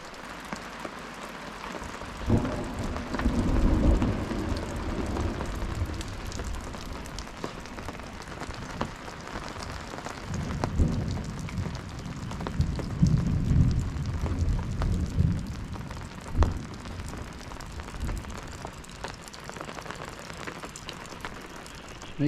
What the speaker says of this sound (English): a little bit of rain and the fish are feeding in the Timbara River. And listen to that thunder in the background.